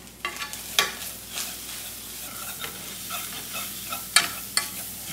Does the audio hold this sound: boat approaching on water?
no